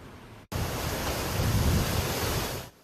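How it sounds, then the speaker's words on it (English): Strong, gusty wind roars across a microphone in West Hills in Southern California's San Fernando Valley, a loud, steady broadband rush with low rumbling buffets that starts abruptly and holds for nearly three seconds. "This has been some significant wind. We're getting heavy gusts here."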